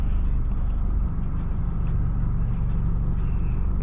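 A tuned car with a stage 1 tune and traction control on launches from a standstill at about 3000 rpm, giving a loud, steady low engine rumble heard from inside the cabin with no clear rise in pitch.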